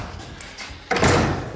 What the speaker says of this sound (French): Je peux péter la porte